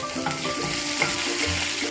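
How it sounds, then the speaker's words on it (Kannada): Chopped onions fry in a pan toward golden brown, a continuous dense close sizzle with faint scraping of a spatula, short and without speech. "ಈಗ ನೋಡಿ ಈರುಳ್ಳಿ ಸ್ವಲ್ಪ ಫ್ರೈ ಆಗಿದೆ."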